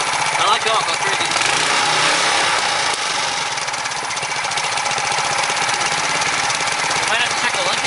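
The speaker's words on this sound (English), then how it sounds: "it was running too high of an RPM, even when it was on low like this, when there's no tension on the spring" A rebuilt Briggs & Stratton Quantum small engine races at high RPM with a loose governor spring, its steady loud buzzing roar filling the whole stretch with a faint rattle underneath.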